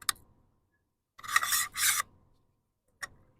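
A top rail slides onto a Planet Eclipse EMEK 100 paintball marker, a close metallic scraping slide in two quick strokes, bracketed by light clicks, with no talking.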